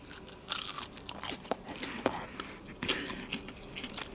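Air-fried French fries made with no oil in a Wolfgang Puck air fryer oven being bitten and chewed close up, giving soft, irregular crunches and mouth sounds for a few seconds with no talking.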